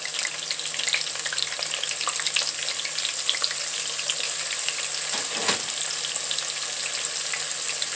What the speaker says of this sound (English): I chose to deep fry it.